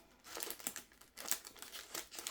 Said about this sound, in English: I'm gonna grab a little bit of the tape. I see this standing up. I'm just gonna tape it down.